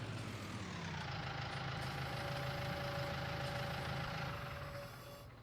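A tractor in Farming Simulator 19 idles by the trees, a steady low engine drone with a faint whining tone, constant and close before easing off near the end.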